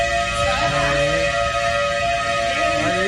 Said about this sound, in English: the family did not know what the tornado sirens meant